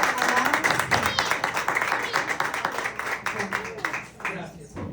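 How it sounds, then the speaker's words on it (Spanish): A church congregation applauds together during a Sunday morning worship service, a dense wash of clapping that runs steadily throughout, with voices calling and talking over it. "Iglesia, dar un aplauso al Señor en esta mañana."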